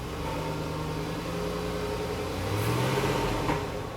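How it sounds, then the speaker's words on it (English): A dead SUV's engine idles and revs after a jump start from a TOPDON JS2000 2000A jump starter, a steady close engine drone that swells slightly toward the end, with no talking. "you gotta give it a lot of gas to make it rev"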